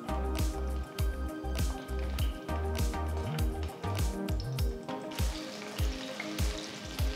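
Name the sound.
chopped eggplant sautéing in sesame oil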